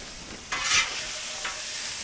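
Food sizzles on a Blackstone griddle during a hibachi-style cook, a steady close hiss with a brief scrape of a spatula stirring across the flat-top.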